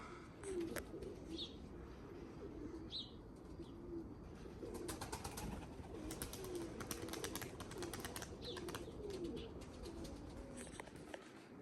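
A Tempo pigeon coos softly in low, rolling repeated phrases, nearby but quiet, with a few thin chirps and light rustling scattered over a faint background hiss.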